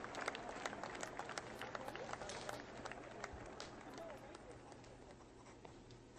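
A large crowd claps steadily along the streets of Edinburgh as Queen Elizabeth's coffin cortege passes, a dense continuous patter heard from a distance, with hoof-like clopping and talk mixed in, slowly fading toward the end.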